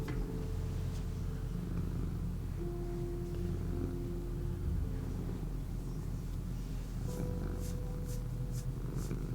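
A cat purrs in a steady low rumble that runs the whole time, close and continuous, with faint scattered background sounds over it.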